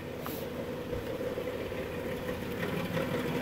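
A Dodge Grand Caravan 3.6 engine idles quietly with a faint, continuous rattle under a low steady hum, heard from close by at low volume and without talk.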